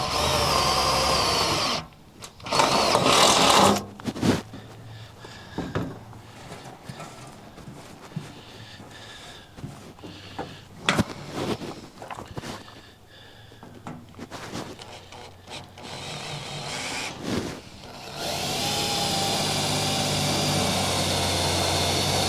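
A power drill bores out bolt holes in the steering console of a 12-foot Marlon fishing boat. Short bursts of drilling come early, then a longer, steady run closes out the stretch, with clunks and handling noises in between.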